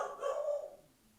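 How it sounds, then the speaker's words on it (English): Dogs barking somewhere nearby in a house, a short burst of rough barks that tapers off quickly, moderately loud and heard alone without talk. "there's the dogs"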